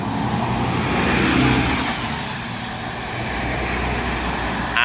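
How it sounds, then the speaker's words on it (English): Coach on route C69 pulling away from a stop in Cirencester: a loud, close diesel engine growl that rises as it accelerates off, then settles as it moves away, with steady street noise around it. "the coach that's shortly behind it was operating the C69 GB70 PUL, leaving again"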